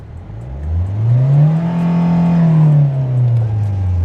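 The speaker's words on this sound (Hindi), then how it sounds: "नो डाउट देखो इंजन काफी रिफाइंड रहने वाला है।" A Hyundai Venue's 1.5-litre CRDi diesel engine revs up from idle, climbs to a steady high-pitched drone, then eases back down, heard loud and close with the windows lowered and no talking.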